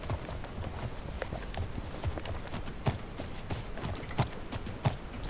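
Horse hooves clip-clop steadily in The Legend of Khiimori, a game, with a few sharper, louder hoof strikes standing out from the even rhythm of riding.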